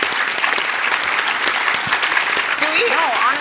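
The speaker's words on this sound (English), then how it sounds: "let's just give them a round of applause for that" An audience at an inclusive-culture summit gives a round of applause, dense steady clapping filling the room, with a voice beginning to speak near the end.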